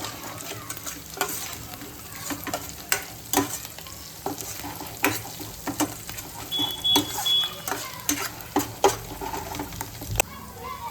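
Curry leaves dropped into hot oil in a pan sizzle and spit, with a steady frying hiss broken by sharp crackles and pops. Stirring scrapes sound throughout.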